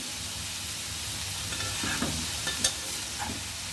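Water lily stems frying with shrimp in a pan, a steady hissing sizzle with a few scraping stirs and small clinks toward the end, close and moderate in level, no speech.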